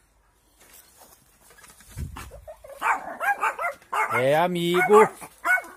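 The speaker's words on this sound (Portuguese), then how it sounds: "Meus cachorros estão querendo pegar o gato." Dogs bark and whine eagerly at a cat outdoors at an agroforestry plot, the barks starting faint and growing louder and closer, mixed with someone talking.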